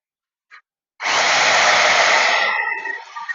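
An electric cutter used in a mock operation starts up after a short tap and whirs loudly and steadily for about two seconds, then winds down with a shifting whine.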